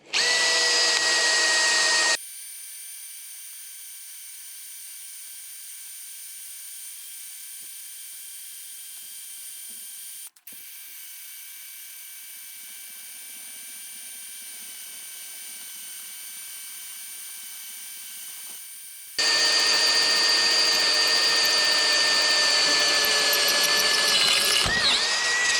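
A Norseman step drill bit driven by a power drill cuts through metal, a loud steady high whine with a sudden drop to a lower, quieter grinding tone for most of the cut before the full whine returns near the end.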